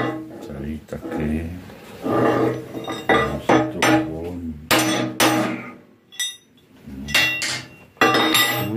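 Hammer blows land on hot excavator metal parts being straightened, several sharp metallic strikes with brief ringing, spaced irregularly between stretches of someone talking.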